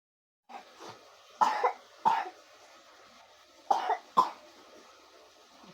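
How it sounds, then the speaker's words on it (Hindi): A girl coughs in two pairs of sharp, raspy bursts separated by a pause, close and fairly loud over a quiet room hum. "इतनी खांसी हो रही है मेरी बेटी को।"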